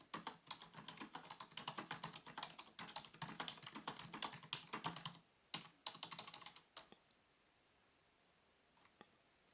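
Rapid, close clicking of keys on a white Logitech K400 Plus wireless touch keyboard, typed in quick bursts for several seconds before trailing off into a few isolated taps.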